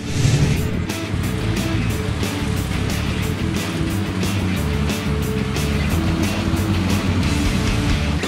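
A CLAAS Xerion tractor packs haylage in a silage pit, its engine a loud, steady, continuous drone with rumbling low end and no break across the whole stretch.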